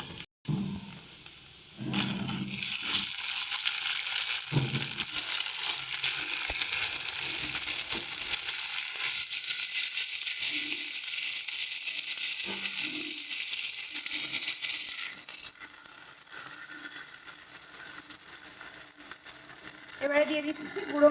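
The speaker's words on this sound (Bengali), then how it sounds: "প্রথমে দিচ্ছি আদা বাটা, কাঁচা লঙ্কা বাটা" Ginger and green chili paste fries with onions in a pan, bursting into a loud, continuous sizzle after a short quiet start and hissing steadily for the rest of the clip, with occasional stirring clatter.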